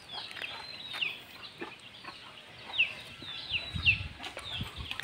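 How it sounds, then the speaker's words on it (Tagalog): Backyard pet chickens on a small farm clucking after feeding: a few soft, scattered clucks and short calls from several birds at moderate distance over a quiet outdoor background. "Mga alagang manok."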